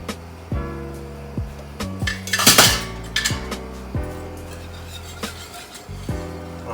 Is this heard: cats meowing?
no